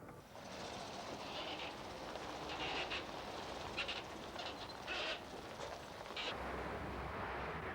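A large steam locomotive runs along a country lane, heard as a continuous rumbling, hissing roar at middle distance with repeated bursts of higher-pitched chuffing and clanking, with no voices.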